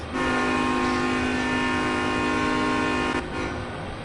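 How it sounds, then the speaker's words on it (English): A loud, steady locomotive horn sounds in Train Sim World 2 on the Sherman Hill route. It holds one sustained chord-like blast for about three seconds, then cuts off into quieter rail rumble. "These are cool horns."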